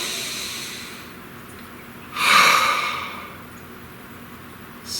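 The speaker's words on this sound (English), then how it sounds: "Please take a nice deep breath." A single deep breath taken during a guided meditation, a slow airy intake that rises, peaks and then fades over about a second, alone in an otherwise quiet room.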